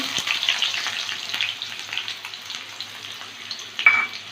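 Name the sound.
chopped onion frying in mustard oil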